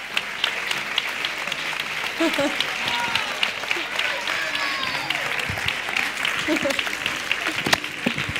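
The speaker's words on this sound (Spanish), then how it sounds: "Un fuerte aplauso para Juan, por favor." An audience at a carnival drag final gives a round of applause for stylist Juan Rivilla, moderately distant clapping that continues throughout with occasional voices and cheers over it.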